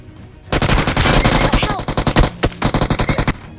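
Automatic gunfire in the mobile battle royale game BGMI: a loud, close, sustained burst that breaks into rapid rhythmic volleys of separate shots, with a sharp louder crack midway.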